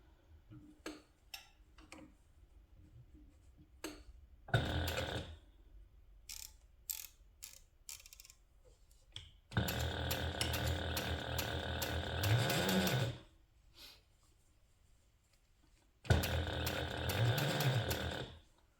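Sewing machine stitching a handbag at a 1/8 inch seam allowance: short bursts of fast mechanical whirring and ticking, with the longest run lasting about four seconds, separated by quiet pauses with small clicks and handling noises.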